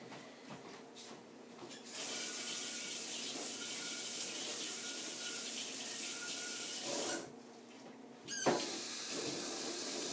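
Tap water runs steadily into a bathroom or kitchen sink, a broad close hiss that holds for several seconds with brief dips and splashy surges near the end.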